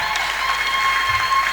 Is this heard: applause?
yes